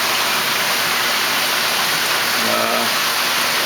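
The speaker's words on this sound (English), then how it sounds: "that additional noise is this filter rinsing out the drum" A drum filter in a home-built aquaculture system backwashes, giving a loud, constant rushing of spraying water, with a short mechanical whir rising near the end.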